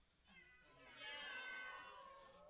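A live audience of people calls out mock cat meows together, imitating the animal in a loud, swelling chorus that rises and then fades over about two seconds.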